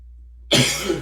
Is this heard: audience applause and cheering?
no